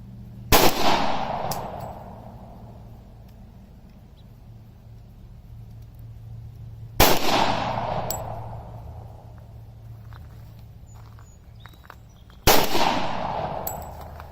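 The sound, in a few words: Rock Island Armory M1911 A1-FS pistol gunshots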